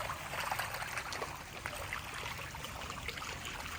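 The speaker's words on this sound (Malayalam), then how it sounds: "നല്ല രസമാണല്ലേ വെള്ളത്തിൻ്റെ ശബ്ദം," Rainwater runoff from a rural yard babbles along as a small stream, a soft, steady broadband trickle and rush at low level throughout, with no speech.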